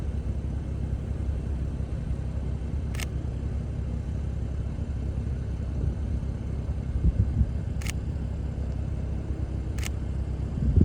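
Three sharp, isolated shutter clicks from a Sony A7III camera shooting a car at 1/80 shutter speed, spaced several seconds apart over a steady low outdoor rumble.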